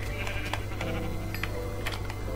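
Sheep bleating in Minecraft on Xbox 360, a few short game bleats over a steady low background hum, fairly close and clear, with no talk.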